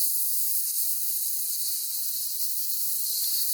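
Pork and shrimp crepe batter for Vietnamese banh xeo sizzling in a hot carbon steel wok, a steady, bright hiss that holds evenly close up with no talking.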